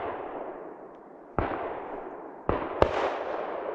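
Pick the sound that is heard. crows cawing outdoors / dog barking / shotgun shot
shotgun shot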